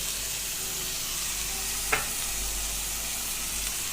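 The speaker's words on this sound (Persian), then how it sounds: "موادمون داره سرخ میشه" Ingredients fry in a pan while spices are added, a continuous soft sizzle with a single brief clink of a utensil partway through.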